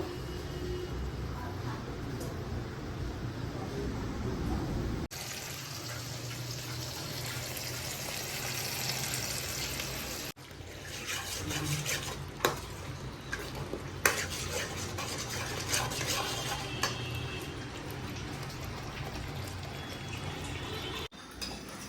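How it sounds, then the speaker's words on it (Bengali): Potatoes frying in a pan for aloo dum, with repeated scraping and stirring of a spatula against the pan over a soft sizzle that goes on steadily for about twenty seconds, and some clinks of utensils. "আলুগুলো সবে ভাজছি।"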